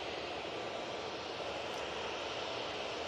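Airplane landing at Manchester Airport, a steady broad roar of engine and rushing air that holds at an even level throughout, with no voices.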